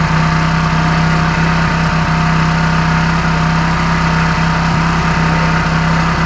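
A Hero HF Deluxe motorcycle engine runs steadily at around 4000 RPM, a loud, continuous, even drone with a strong hum and no variation, heard up close with no talking.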